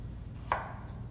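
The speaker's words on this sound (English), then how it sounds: "I just cut it in three different pieces, cut the ends off, stand it up, nice thin slice" One crisp knife stroke thinly slicing a whole zucchini on a cutting board, a single short chop at close range against a quiet background.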